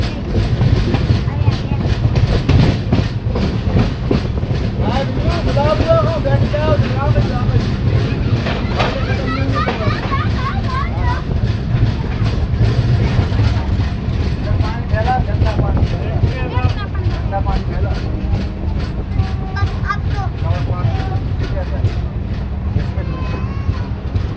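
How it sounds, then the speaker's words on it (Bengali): A passenger train rolls slowly into Mau Ranipur station in Uttar Pradesh, with continuous rumbling, wheel clatter and rail noise throughout, loud and close from inside the carriage, with voices in the background. "ট্রেন ধীরে ধীরে উত্তরপ্রদেশের মৌ রানীপুর স্টেশন এন্টার করছে"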